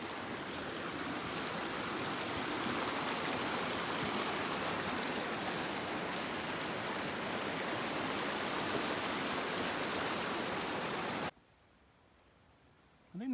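A mountain stream flowing in Jasper National Park, a constant close rushing drone of water that cuts off abruptly near the end, leaving near-silence.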